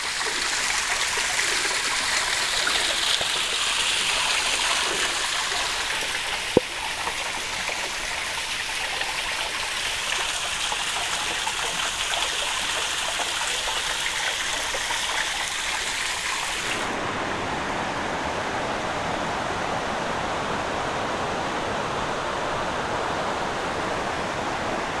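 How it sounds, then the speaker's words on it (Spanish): The Costa Rica river rushes through forest beside a mountain bike trail, a loud, steady wash of flowing water that fills the whole stretch, with a brief click partway through and no talking. "Aquí ando buscando la forma para bajar a este río"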